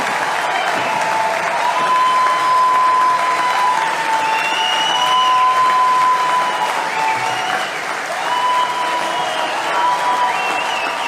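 An audience claps for Viktor Orban, producing loud, sustained applause from a large crowd that continues without a break, with some faint voices underneath.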